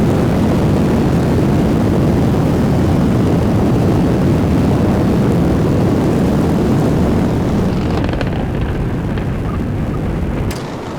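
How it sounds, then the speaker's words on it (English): A rocket plane in Kerbal Space Program 2 roars with a loud, steady engine rumble for the whole stretch, easing slightly toward the end. "It's a rocket plane."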